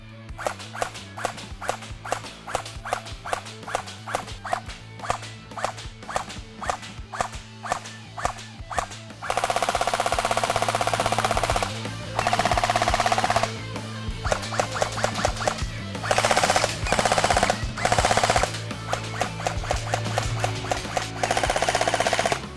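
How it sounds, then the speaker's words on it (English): SRC SR4 gel blaster firing through a chronograph and downrange: a long run of sharp, evenly spaced single shots, then dense rapid bursts with brief pauses, close and loud over a steady low hum. "we'll run it through the chrono so you can see the FPS, and we'll also shoot it down range so you can see how it performs that way"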